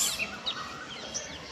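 Faint, high-pitched parrot calls chirp a few times over quiet background hiss, brief squawks scattered across the moment as the parrot flies past.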